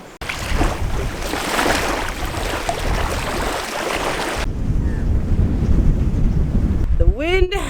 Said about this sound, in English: The wind has just picked up